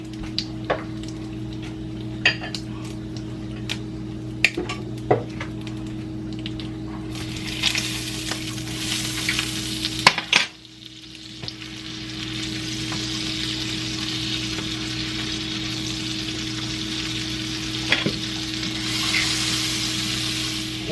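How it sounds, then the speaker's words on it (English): Onions caramelize in butter in a pan, a steady sizzle broken by clinks and scrapes of stirring, then a louder, brighter frying hiss in the second half. "The onions is good and caramelized. Add a little more butter."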